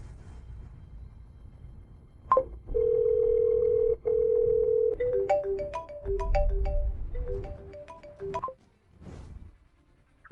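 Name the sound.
telephone ringing during a call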